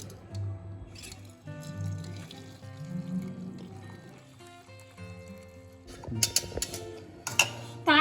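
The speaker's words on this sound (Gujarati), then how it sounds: "તો હવે આપણે આમાં જે પાણી છે એને અલગ કરી લઈશું।" Cooking water draining off boiled onions and tomatoes after pressure cooking, soft trickling and dripping with gentle pouring gurgles, louder splashes and clinks toward the end.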